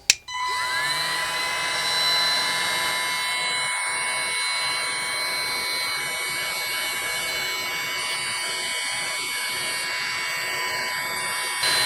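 DeWalt DCE530 cordless heat gun blowing a steady stream of hot air a few inches from the nozzle, a continuous whirring fan hiss with a high whine, close and constant throughout after a brief start.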